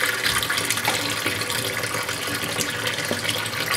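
Water pouring steadily from a tap into a container while foraged garlic mustard is prepared, a continuous hissing splash with no speech.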